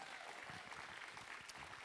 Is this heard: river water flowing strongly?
no